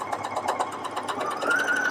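A Necchi Creator C2000 sewing machine stitching at high speed, giving a rapid, even mechanical chatter with a steady whir, close and fairly loud, running without pause.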